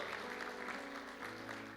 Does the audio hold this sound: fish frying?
no